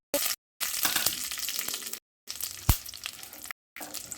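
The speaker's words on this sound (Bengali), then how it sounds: "এবার তেলের উপর আগে থেকে ভেজে রাখা বাদাম নারকেলের টুকরোটা দিয়ে দেব।" Pre-fried peanuts and coconut pieces hit hot oil in a pan with a broad, hissing sizzle, broken by short gaps and one sharp knock partway through.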